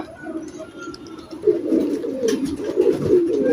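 A Teddy-breed pigeon coos in soft, repeated throaty warbles, close and clear, growing fuller and more continuous in the second half.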